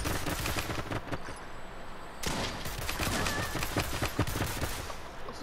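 Shotgun fire in the battle royale game Realm Royale, with dense, rapid gunshot bursts crackling continuously over a busy, noisy game soundscape.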